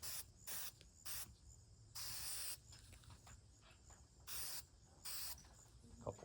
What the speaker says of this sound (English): we're going to just spray the material.